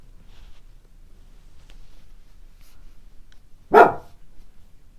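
A neighbouring dog gives a single sharp bark heard nearby and loud against an otherwise quiet indoor room.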